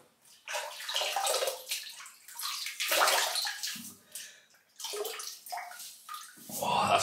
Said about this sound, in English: let's wet the face